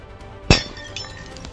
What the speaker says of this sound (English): the enforcer above her shatters the air gel barrier